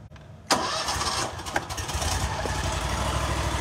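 A Bobcat ZT6000 commercial zero-turn mower with an FX801V engine and air cleaner cranks briefly, catches with a sharp burst and settles into a loud, steady close-range run.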